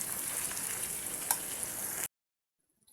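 Salted chicken sizzling in a pan as it is stirred, a constant bright frying hiss with one sharp scrape, then sudden silence.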